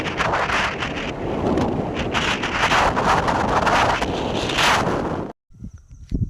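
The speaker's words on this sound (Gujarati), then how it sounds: "ભારે પવન ફૂંકાઈ રહ્યો છે।" Strong storm wind roars steadily against the microphone for about five seconds in an open area at night, then cuts off abruptly, followed by faint wind.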